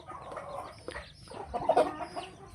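Chickens clucking in a rural yard, several short throaty clucks and murmurs at close range that grow busier toward the end, with faint background noise.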